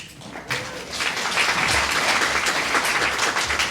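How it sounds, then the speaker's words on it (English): Sustained audience applause at a grant awards event, dense and steady throughout with a slightly quieter start before it swells. "I love your applause and your enthusiasm"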